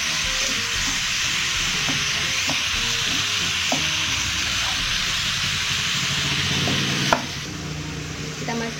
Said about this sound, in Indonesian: Kemudian kita masukkan cabai hijau, cabai merah, tomat, dan juga jahe. Kita aduk kembali.